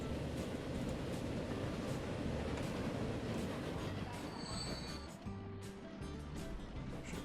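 Train running on tracks in the Transport Fever simulation game, a continuous heavy rumble with rhythmic wheel clatter and occasional high squeals, steady and close, easing slightly toward the end.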